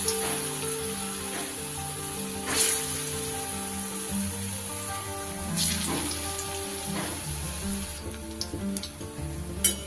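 Green banana muthia fry in hot rice bran oil in a kadai, giving a steady close sizzle with occasional sharp crackles and faint utensil clinks over a low background hum.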